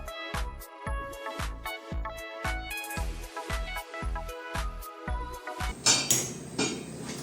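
Steel pots and utensils clank and clink while being scrubbed and rinsed in a home kitchen, a steady rhythm of regular metallic knocks ending in a brief rush of running water.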